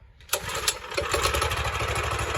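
A small engine on a custom-built quad catches after a pull start and quickly settles into a loud, rapid, buzzing putter close by, running steadily to the end.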